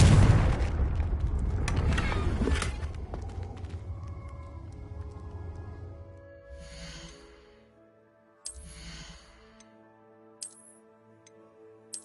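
Confringo explosive spell blast in the Hogwarts Legacy video game, a loud booming burst that rumbles and fades over a few seconds into quiet tonal ambience with soft ticking echoes.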